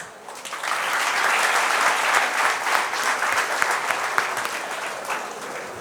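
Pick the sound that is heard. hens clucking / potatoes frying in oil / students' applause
students' applause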